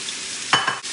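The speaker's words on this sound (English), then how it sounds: "Goes the chicken." Chicken goes into sizzling hot oil in a wok, a short, close burst of crackling frying with a quick stir that flares up loudly and then settles.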